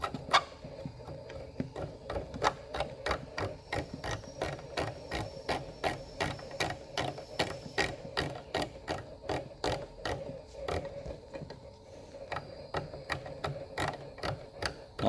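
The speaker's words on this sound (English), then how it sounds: "We're going to screw that all the way on until it goes up and stops." A nose cone is screwed onto a cutter machine, producing a long run of crisp, evenly spaced mechanical clicks like a ratchet, close and steady for about fifteen seconds, with a brief pause near the end and no voices.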